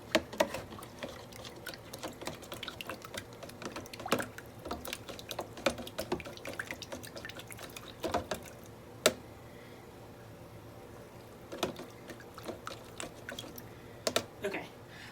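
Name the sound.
mixing yeast into warm water in a container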